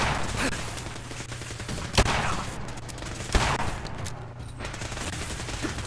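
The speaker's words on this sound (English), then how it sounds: "And I pull out my gun." Gunfire in a video game, with a few sharp shots cracking out over a dense, noisy game soundtrack of rumble and clatter, the reports spaced seconds apart.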